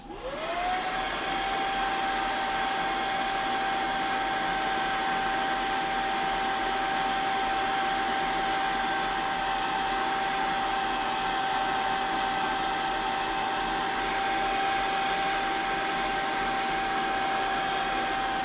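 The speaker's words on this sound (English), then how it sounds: "hairdryer." Hair dryer running steadily and close, a constant whirring blow with a high motor whine that rises as it spins up in the first second, then holds unchanged with no talk.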